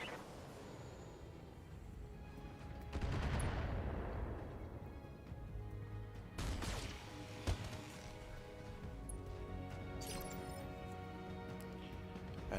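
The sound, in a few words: mech weapons firing in BattleTech video game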